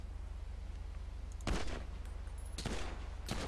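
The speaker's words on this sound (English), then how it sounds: "Who's shooting at us?" Gunfire in GTA 5 during a Fleeca bank heist: two loud broadband bursts of shots, the first around the middle and a second about a second later, with a brief further crack near the end over a steady low game hum.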